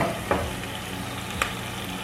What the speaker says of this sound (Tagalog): Gisahin lang po natin yan ng mga 30 seconds o pa maamoy natin yung kanyang aroma. Halu-haluin din natin paminsan-minsan para hindi masunog.